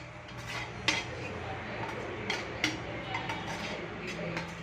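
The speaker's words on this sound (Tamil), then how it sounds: "இப்போ நம்ம எடுத்து வச்சுருக்க ரவாவை ஆட் பண்ணி நல்ல வாசம் வர்ற மாதிரி வறுத்துக்கணும்" Semolina being dry-roasted for kesari, stirred in a pan with steady scraping and a few sharp clinks of a spoon against the metal, close and continuous with no talking.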